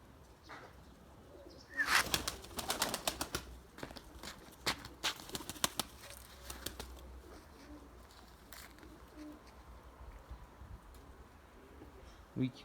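Young domestic pigeons, one still learning to fly, produce a burst of loud wing flapping and clattering near the microphone, then quieter scattered flutters and shuffles against a faint background.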